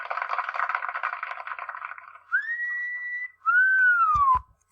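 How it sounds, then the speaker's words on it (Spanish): A person whistles, first an airy breathy stretch, then two clear sustained tones, the second gliding downward, followed by a couple of soft low thumps. "Mire cómo silbo."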